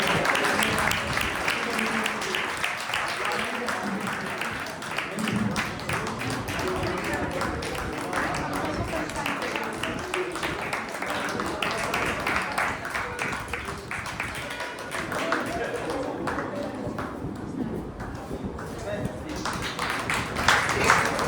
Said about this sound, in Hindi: एक बार तो तालियां बजाएं।